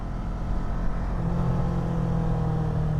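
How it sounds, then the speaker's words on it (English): Air intake of a Kawasaki ER6N motorcycle with its stock exhaust pipe, heard while accelerating: a steady, close engine drone that rises into a low, climbing intake hum as the throttle opens, with no talking. "I hear more the air intake when I accelerate."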